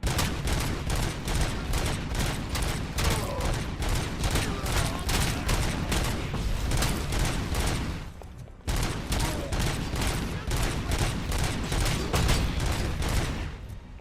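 Sustained rapid automatic gunfire from Robocop Rogue City on PS5, dense rhythmic bursts of shots, loud and close, with a brief pause before the firing resumes.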